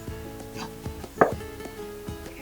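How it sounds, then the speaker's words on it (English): A kitchen knife rough-chops halved olives on a cutting board, giving a quick series of light taps, one louder thud partway through, close and clear with no talking. "from here I'm just going to kind of do a rough chop of these"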